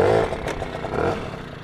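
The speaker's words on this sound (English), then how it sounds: "That sounds like a running engine." A restored Tomos A3ML moped engine sputters into life and keeps running, a brief close, rough clattering putter with slight revving.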